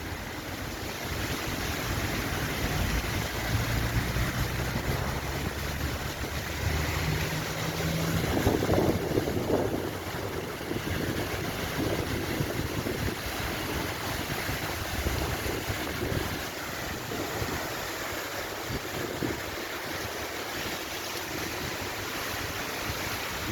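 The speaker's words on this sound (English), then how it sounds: "fantastic, amazing design marble waterfall here Istanbul, Türkiye." Water pours down a marble waterfall fountain in Istanbul, Türkiye, making a steady, loud, broadband rushing roar throughout, with some wind buffeting and no speech.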